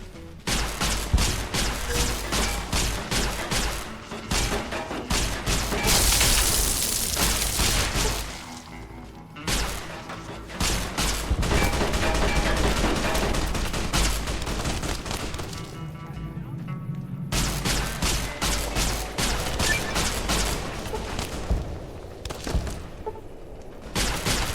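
Gunfire from a gun in Fallout: New Vegas, rapid repeated shots in long dense bursts with booming thuds, loud and close, with a few brief gaps.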